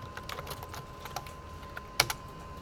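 Computer keyboard typing while entering code, heard as a scattering of light, quick key clicks with one sharper tap near the end; soft and fairly close.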